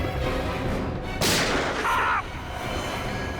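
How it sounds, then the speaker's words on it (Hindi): A single sharp gunshot cracks out in a crime drama scene, loud and sudden against a steady background hum, followed by a brief tonal sound and then quieter ambience. "सर गोली चली है।"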